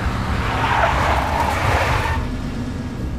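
A big black Mercedes skids in the Max Payne video game, a loud, rough tire screech that holds for about two seconds and then fades into engine rumble.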